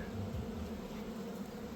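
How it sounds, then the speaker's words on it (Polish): A low, steady insect drone hums continuously throughout, soft and even, like bees buzzing around close by with no voices. "Pszczoły"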